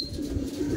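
Racing pigeons returning from a 125 km toss make a soft, low, continuous cooing close by, with no other sounds over it.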